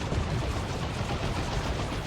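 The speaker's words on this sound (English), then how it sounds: "Big zap gun shot." A big zap gun shot from an Ork unit in Dawn of War 2 lands amid a steady crackle of battlefield gunfire, a dense, loud wash of shots with no single distinct blast standing out.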